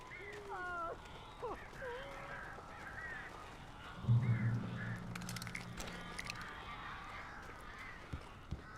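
Birds caw repeatedly in the Alan Wake video game, scattered harsh calls over a dim ambient bed, with a low rumbling thud midway and faint talk in the background.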